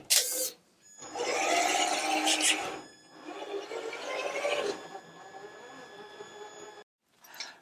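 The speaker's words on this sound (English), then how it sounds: "So just a little test of driving up a 54 degrees slope." A Traxxas TRX-4 Mercedes G500 RC truck climbs a 54-degree slope, its electric motor whining close by in two long, strained bursts separated by short pauses, ending in near silence.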